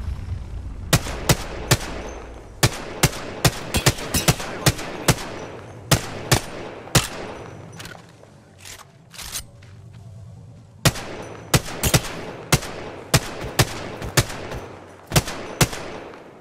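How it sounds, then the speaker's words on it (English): Rapid bursts of gunfire from enemies in Apex Legends ring out, sharp cracks arriving in irregular clusters across the stretch, loud and close, with a brief quieter gap in the middle before the shots resume. "Getting shot at. Taking fire, bro."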